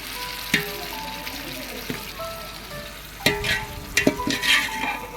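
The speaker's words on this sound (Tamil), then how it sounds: "வெங்காயம் நன்கு வதங்கிய பிறகு தக்காளி சேர்க்கப்படுகிறது" Sautéed onions and tomatoes frying for seeraga samba biryani at a birthday celebration, a steady sizzle with sharp clanks and scrapes of stirring, heavier toward the end, close by with no clear talk.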